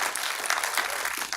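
Members of the public at a city council meeting applaud in a dense, continuous burst that fills the whole stretch.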